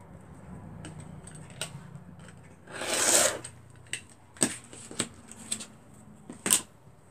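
Half-inch strip being cut from a cardboard tube box. One short scraping slice stands out in a quiet room, surrounded by scattered soft taps and clicks of handling.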